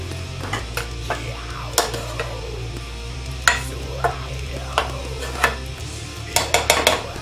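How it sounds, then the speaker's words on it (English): A plastic spoon stirring a cranberry and red wine vinegar mixture in an anodized pan, with soft scrapes and light knocks against the pan at an uneven rhythm over a low background hum. "that's why I'm using the plastic spoon here"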